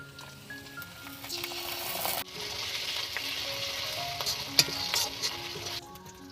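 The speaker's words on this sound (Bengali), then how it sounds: "মশলাটা বেশ ভালো করে ভাজা হয়ে গেছে" Ginger, garlic, cumin and dry chilli paste fries in hot oil with onions for an egg tadka, a steady sizzle broken by scraping stirs and one sharp clink of a utensil, with no talk.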